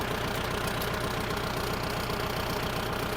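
A Kubota L5018SP tractor's diesel engine runs at a steady, loud, close idle with a continuous throbbing knock, while gears are shifted.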